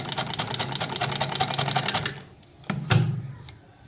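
A household sewing machine stitching fabric, with a fast steady mechanical chatter for about two seconds that then stops, followed by a couple of clicks and a brief low rumble.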